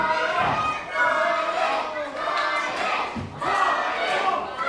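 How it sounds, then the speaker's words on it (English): A crowd at a live wrestling match cheers in swelling waves for a wrestler, with shouts and children's voices rising and falling across the moment at moderate volume. "Crowd getting behind Riley"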